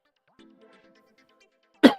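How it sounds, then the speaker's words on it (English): A faint, low voice murmurs. Then one sharp, loud cough breaks out close by at the end. "I'm trying to get rid of this cough, man."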